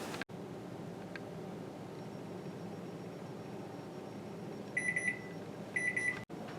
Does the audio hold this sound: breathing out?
no